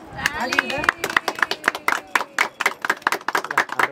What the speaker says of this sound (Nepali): ताली ल ताली